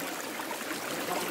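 Stream water flowing inside a cave on Mt. Kumonal in Zamboanga del Norte: a soft, steady broadband rush and trickle, faint and continuous, with no voices.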